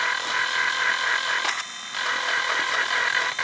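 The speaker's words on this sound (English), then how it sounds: "So let's just Dremel on slow speed. I just want to remove" A Dremel rotary tool at slow speed roughs up the glazed finish on a Sears portable 8-track stereo player, giving a steady close high whine with one brief dip midway, no talk.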